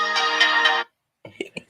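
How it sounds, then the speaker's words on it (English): A phone ringtone plays loudly for almost a second, cuts off, then a few short electronic tones return after a brief silence. "saved by the ringtone."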